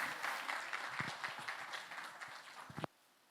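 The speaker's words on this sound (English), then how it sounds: "A round of applause, ladies and gentlemen." Audience applause welcomes a speaker onto the stage at a fintech competition semi-final, a brisk patter of many hands with a few sharp close claps, stopping abruptly just before the end.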